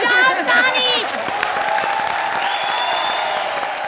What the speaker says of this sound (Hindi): बजाओ तो बजाओ ताली भाई लोग बजाओ ताली